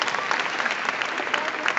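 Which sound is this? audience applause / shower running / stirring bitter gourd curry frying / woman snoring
audience applause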